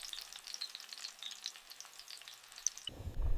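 Chicken fillet fries crisp in a pan, a faint, bright sputtering sizzle that runs steadily before a low rumble cuts in near the end.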